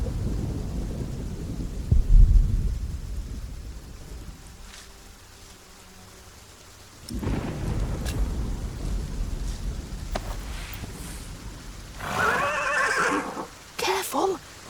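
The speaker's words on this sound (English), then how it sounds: "by disturbing William's horse a bit too much" A horse in the video game The Pillars of the Earth neighs and whinnies amid rolling thunder and rain, with bursts of the animal's calls and a voice speaking later over the stormy background.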